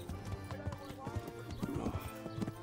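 Horse hooves clip-clop steadily on a road in the medieval game Kingdom Come: Deliverance, close and fairly loud, with a horse whinnying amid the busy rhythmic footfalls.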